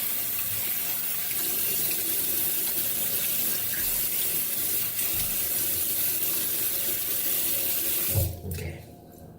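Cold water runs steadily from a tap into a sink as a face is wetted for shaving, a constant close hiss with no speech that cuts off sharply near the end.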